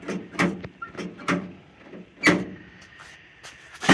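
Mechanical clicks and clunks from the door handle and latch of a 1970 Chevrolet Camaro, several sharp metallic snaps spaced apart, close up and fairly quiet.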